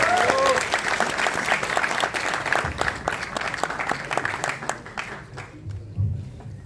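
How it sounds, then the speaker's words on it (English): An auditorium audience at a start-up talk by company founders at IIT Bombay applauds a speaker, steady dense clapping that thins and fades toward the end, with a voice faintly audible at the start. "Please put a huge round of applause for Mr. Ajit Balakrishnan."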